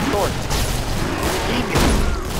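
Double-barreled shotgun in Killing Floor unloading both barrels, heavy booming blasts thick with chaotic gunfire amid a crowded firefight, loud and dense with voices talking over it.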